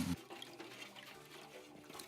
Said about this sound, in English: Pour clean water into a pan.